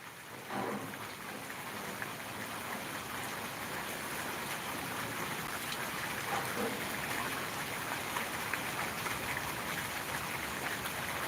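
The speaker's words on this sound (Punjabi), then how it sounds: "ਮੀਂਹ ਬਹੁਤ ਜ਼ਿਆਦਾ ਪਿਆ ਬਈ ਅੱਜ" Heavy rain pours steadily over a village in Kot Shamir, Bathinda district, a dense, constant hiss of rainfall with no voices, holding even and loud for the whole stretch.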